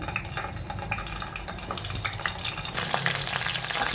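Cut, salted eggplant pieces dropped into hot oil in a pan, giving a steady crackling fry with stirring and scraping noises, continuous and moderately loud throughout.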